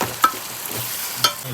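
A mixture is stirred in a pan, with two sharp scraping clinks of a utensil against the metal spaced about a second apart over a quiet background, and no voices.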